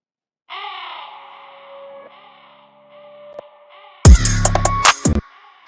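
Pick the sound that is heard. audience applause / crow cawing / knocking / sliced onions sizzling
crow cawing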